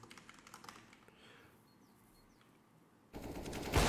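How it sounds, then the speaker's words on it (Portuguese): Rapid AWP sniper rifle shots in a Counter-Strike match on the Inferno map, a burst of sharp clicky taps early on, then a loud sustained blast of gunfire near the end. "o Olaf começou a atirar, é quickscope"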